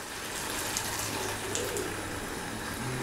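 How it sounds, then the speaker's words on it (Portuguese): Hot water, half a cup, poured into a pan of beef stroganoff, giving a steady, close, hissing splash that runs evenly for about three seconds with no talk over it. "Em seguida, nós vamos colocar meia xícara de água quente."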